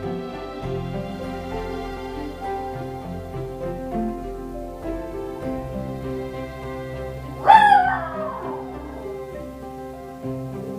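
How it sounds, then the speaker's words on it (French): A dog gives a single loud, sharp bark indoors, standing out clearly over steady background music. "On va laisser japper Jack, puis je te reviens."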